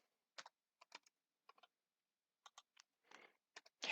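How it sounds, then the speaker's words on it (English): Keystrokes on a computer keyboard sound as sparse, crisp clicks in small irregular bursts with short pauses between, close and quiet in an otherwise silent room. "I can type my team's names"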